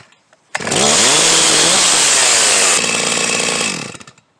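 A Stihl MS361 chainsaw with a suspected plugged fuel tank vent fires up and runs loud and close, its engine revving high and steady for about three seconds before settling into a slightly rougher, pulsing run.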